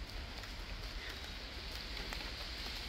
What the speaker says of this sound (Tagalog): So today it's raining.